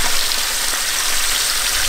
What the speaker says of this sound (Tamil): தலையும் அழகா எண்ணெய் ஊற்றி வேக வைக்கணும்டா